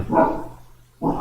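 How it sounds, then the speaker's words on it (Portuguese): A dog barks indoors: a loud near bark with a second bark after a short pause. "o cachorro mais uma vez participando"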